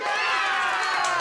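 Canned audience applause and cheering played in a Hungarian talk-show studio, a dense, steady crowd wash that runs loud and unbroken.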